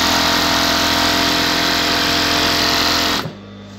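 A flatlock sewing machine stitching with three threads runs at a steady, loud, fast mechanical whir for about three seconds, then stops abruptly, leaving a faint hum.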